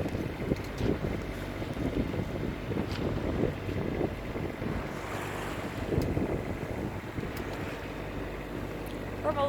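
Sailboat motoring under engine along the Wicklow coastline in calm, windless conditions, with a steady low engine drone mixed with water wash and light wind buffeting on the microphone throughout.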